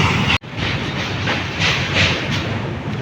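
A train rumbles past close by, its wagons clattering steadily with a rhythmic clickety-clack over a loud, continuous roar.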